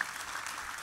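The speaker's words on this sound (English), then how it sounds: "Can we give him and this whole panel a big round of applause?" An audience applauds a panel at a workplace talk, a brief, steady wash of clapping with no voices over it.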